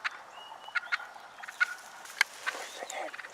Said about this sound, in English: We just had a hen turkey get within 5 to 7 yards of us.